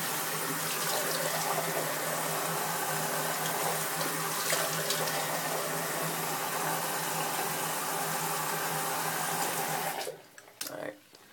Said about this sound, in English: usually my initial rinse is a hot water rinse